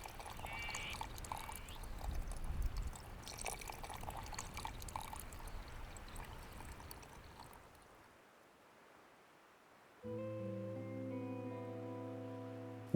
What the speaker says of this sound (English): Let us see how these soils react when we pour water on them.